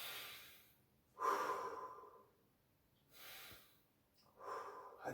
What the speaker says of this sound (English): then just take a couple of breaths here